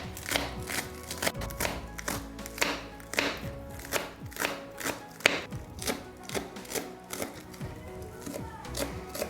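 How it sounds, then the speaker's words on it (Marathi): A knife chops spring onion greens finely on a cutting board at home while vegetable soup is prepared, giving steady rapid taps in an even rhythm that carries on throughout, close and crisp, with faint background sounds. "कांद्याची पात बारीक कापून घेऊ छान अशी कट करून घ्यायची"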